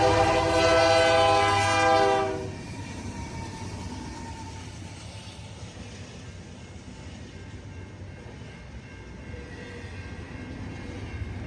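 CN intermodal freight train led by a BC Rail locomotive, opening with a loud sustained horn blast that cuts off after two seconds, then a steady rumble and rolling clatter of passing cars.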